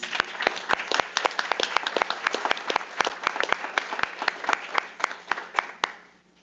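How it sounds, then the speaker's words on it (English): An audience at a utility commission meeting applauds an award recipient: steady, dense clapping from a roomful of people that carries on for several seconds, then trails off at the end. "we can give Gina a round of applause"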